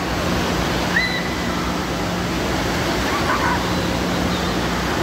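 Artificial waves roll through a wave pool in a steady, dense wash of surging water that holds at an even loudness for the whole stretch, with no breaks between swells.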